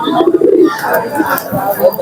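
Pigeons coo loudly and close at a Thursday pigeon market in Nazirpur, soft throaty calls repeating over a background of crowd chatter.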